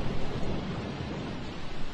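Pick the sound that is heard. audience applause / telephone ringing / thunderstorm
thunderstorm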